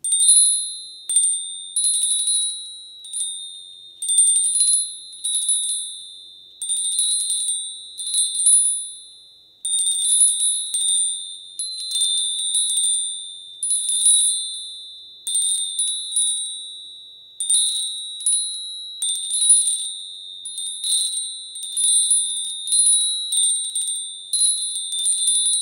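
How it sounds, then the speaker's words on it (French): Small metal bells from Bali, Indonesia, ringing in bright, high, clear tones, shaken in repeated bursts with short gaps over about twenty-five seconds, close and alone. "Premier son, ce sont des petites cloches que j'ai achetées à Bali, en Indonésie"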